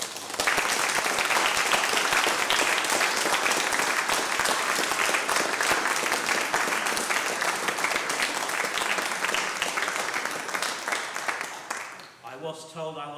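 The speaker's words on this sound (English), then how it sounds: "let's give John a really big round of applause" Church congregation at a Bach anniversary concert applauding John, loud sustained clapping for about twelve seconds that gradually thins and fades out, followed by a voice speaking near the end.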